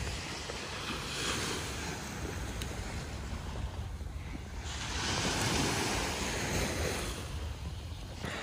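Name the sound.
waves at Torremolinos beach, Malaga, Spain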